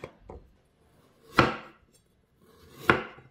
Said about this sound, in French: Ici, je coupe gingembre en lamelles.